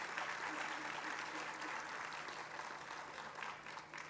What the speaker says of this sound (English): So would you please give Mr. T.C. Broadnax also a round of applause?